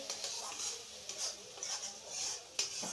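Spice masala frying in a pan for Bengali pabda fish curry, a soft, steady sizzle with occasional stirring scrapes and a sharper clink near the end, close and fairly quiet, with no talk.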